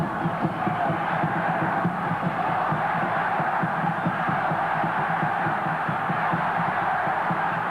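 A home crowd fills the air with a steady, unbroken roar and murmur at a 1981 FIFA World Youth Championship football match between Australia and Argentina, a dense wash of voices throughout with no single standout shout.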